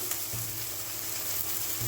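Paneer frying on a hot tawa makes a steady, close sizzle with a constant crackling hiss throughout and no voices.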